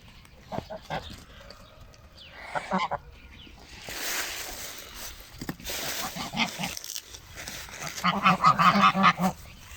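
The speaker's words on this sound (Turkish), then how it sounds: "bugün de size kazları çekmiş oldum" Geese on a farm honk in scattered bursts, some near and loud, building into a dense clamour of several birds toward the end.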